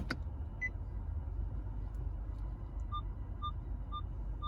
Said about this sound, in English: So I've got some beeping going on right there.